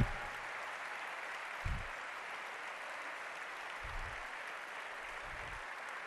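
Audience at a Lega Nord party congress applauding the mayors, a sustained, moderately distant wash of clapping with a few low thumps, no talking.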